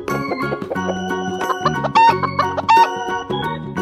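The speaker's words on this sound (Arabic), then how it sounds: "صوت الدجاجة" A hen clucks in a run of quick, rhythmic notes, loud and close, with no talk, set over musical backing in a children's animal-sounds cartoon.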